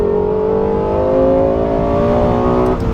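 A Lexus LFA sports car engine holds a loud, smooth, high-pitched rev that climbs slightly for nearly three seconds before abruptly dropping off.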